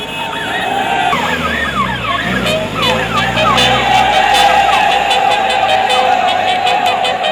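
An ambulance siren wails during a police mob-operation drill, its rising and falling tones loud and near over vehicle and crowd noise, with voices talking underneath.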